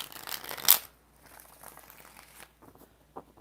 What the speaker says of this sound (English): Four shuffles.